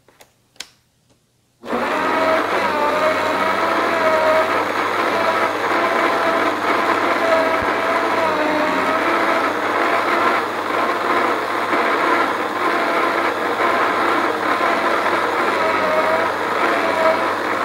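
A Popeil pasta machine churns flour into dough with a steady, loud motor whir and grinding hum that runs continuously after a brief quiet start with a few small knocks.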